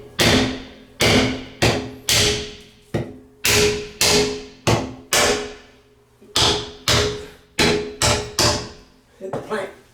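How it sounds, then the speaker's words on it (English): Hammer striking a plank repeatedly while installing a toilet flange: about fifteen loud, close, sharp blows in irregular bursts of two to four, each ringing briefly before the next. "Just use a hammer."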